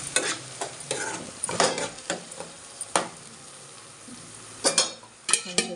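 Chicken curry sizzles in a pan while a spoon scrapes and stirs it in irregular bursts, with a steady frying hiss underneath and no talking.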